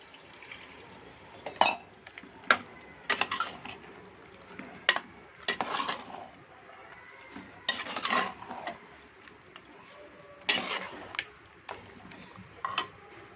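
Chicken masala with salt and chopped tomato is stirred in a pot, giving intermittent scraping and sizzling strokes in short bursts against a quiet background.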